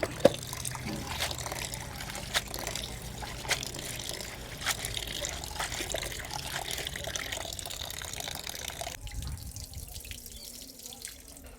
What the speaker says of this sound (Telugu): మనం ఈ గురుగాకుని శుభ్రంగా మూడు నాలుగు సార్లు కడుక్కోవాలి